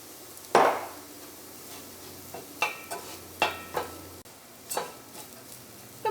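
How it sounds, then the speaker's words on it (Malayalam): Spice powders and chili powder fry in hot oil for a potato and cauliflower curry, giving a faint sizzle under a series of sharp spoon scrapes and taps against the pan, with no voice. "ഇതിലേക്ക് നമുക്ക് മുളകിൻ്റെ പൊടി ചേർക്കാം."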